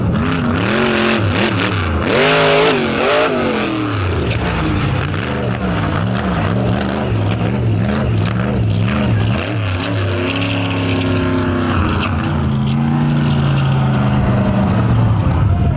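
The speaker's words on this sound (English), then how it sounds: "Truck sounding a little bit sick right now as it rolls to a stop out there on the end of the track" A monster truck engine sputters and labours as the truck rolls to a stop at the end of an arena track at the Indy finale, loud and continuous with wavering, uneven engine tones throughout.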